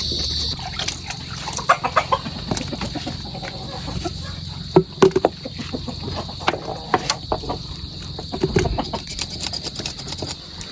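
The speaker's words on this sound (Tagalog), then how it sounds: "Si Papa po doon ay nagpapakain na po ng kanyang mga alagang manok." Pet chickens cluck and peck while being fed in a Filipino backyard, scattered soft clucks and rustling taps against a steady high insect-like hum, with no talk.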